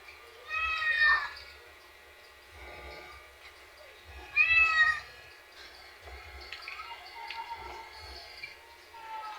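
Several cats meow repeatedly near a home where strays gather to be fed, giving two loud close cries and softer calls in between, with a faint voice and low background noise.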